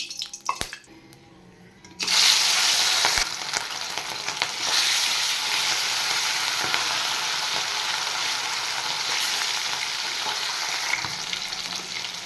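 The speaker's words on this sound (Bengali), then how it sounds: "তেল গরম হয়ে গেছে এবার আমি মাছগুলো ভেজে নেব" Food drops into hot oil and erupts into a loud, steady sizzle that keeps crackling evenly with no talking.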